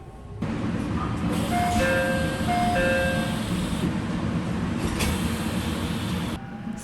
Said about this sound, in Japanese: 列車が入線してきました。